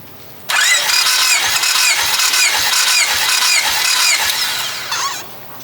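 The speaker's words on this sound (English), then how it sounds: "turn that engine over 6 times while holding the gas pedal down to open up the throttle body" A car engine cranks over repeatedly with the gas pedal held down during a compression test, a steady rapid rhythmic starter churn, loud and close, running for about five seconds before stopping.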